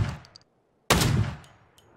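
Two sharp slug shotgun blasts in PUBG, a softer first report followed after a short silence by a louder, heavier boom with a decaying tail.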